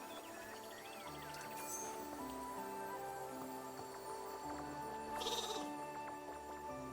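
Sheep bleating in the video game Infinity Nikki, a couple of short bleats over soft game background music, with no talk.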